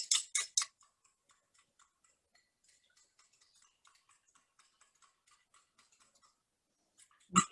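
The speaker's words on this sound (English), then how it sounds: "I'm just whisking together the yolk and the egg white." Hand whisk beating egg yolk and egg white together in a bowl, a quick run of light, even clicking taps, faint and close, framed by a few louder clinks at the start and end.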